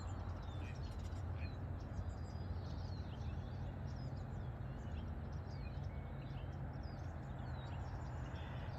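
Birds chirp faintly at a campground at dawn, small scattered calls over a steady, even wash of outdoor background noise.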